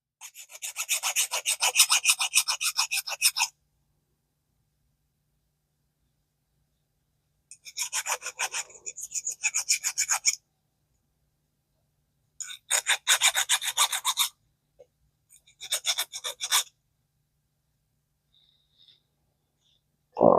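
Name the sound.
deburring metal with a file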